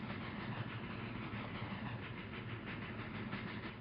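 A train rolls along the rails with a steady, heavy rumble and faint rhythmic clatter running evenly from start to finish, without any talking.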